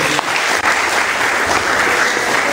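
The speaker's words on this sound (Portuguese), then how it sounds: "Pode aplaudir o Senhor em nome de Jesus." Church congregation applauding at a family worship service, a steady, dense wash of clapping from many hands that fills the whole stretch without a break.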